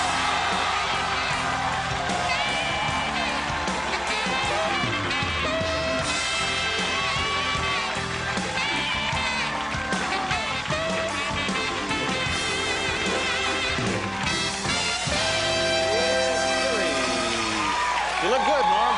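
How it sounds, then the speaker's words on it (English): A television studio audience cheers and whoops loudly and continuously for comedian Norm MacDonald, with yells and shrieks rising over a dense, sustained crowd roar. "The crowd goes crazy."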